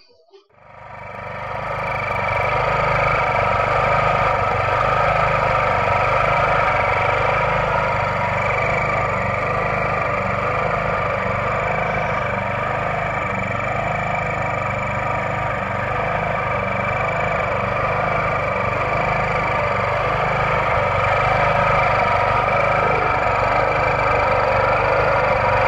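Repaired Jiangdong JF340 small engine, a Honda GX340-type unit fixed after a flywheel magnet failure, starts up and settles into a steady, loud idle that runs alone and unbroken for over twenty seconds.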